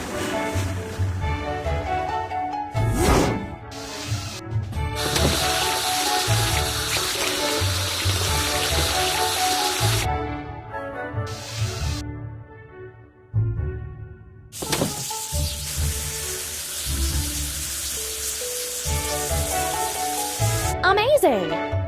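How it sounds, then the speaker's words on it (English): A cartoon water spray washing a blue barge gives long, bright hissing gushes that start and stop in several bursts over steady background music, close and prominent. "We need to wash. Blue barge."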